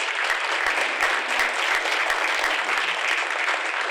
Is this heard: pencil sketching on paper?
no